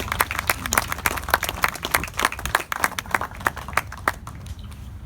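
Scattered applause at a Memorial Day ceremony for US submarine veterans in Vallejo, a modest outdoor audience clapping in uneven, distinct claps that thin out toward the end.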